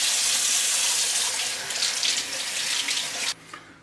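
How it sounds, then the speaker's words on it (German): A wild boar leg, foot still attached, is rinsed under clear running tap water, giving a steady close hiss of splashing water that stops abruptly near the end. "Nachdem der Fuß jetzt ausgiebig gewaschen wurde, spüle ich ihn einfach nochmal mit klar Wasser ab."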